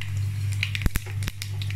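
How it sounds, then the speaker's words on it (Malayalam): Mustard seeds pop in hot oil while a Kerala long beans stir-fry is started: a few sharp, isolated crackles stand out over a steady low hum, with faint sizzling in between. "ഇപ്പോൾ നമ്മുടെ കടുകൊക്കെ പൊട്ടുന്നുണ്ട്"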